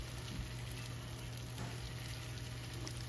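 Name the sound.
potato, pumpkin and pointed gourd frying in a pan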